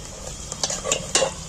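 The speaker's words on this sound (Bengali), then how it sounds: "পেঁয়াজগুলোকে আমি লাল লাল করে ভেজে নেব" Onions frying in oil in a pan for village-style mutton curry, a steady soft sizzle broken by a few quick stirring scrapes and clinks of a spoon against the pan.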